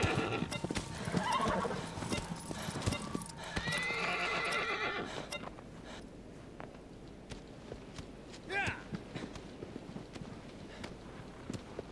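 A horse in the Shadow of the Colossus video game clip-clops along quickly, then slows, and gives one loud neigh partway through, with a quieter stretch of hooves and wind after.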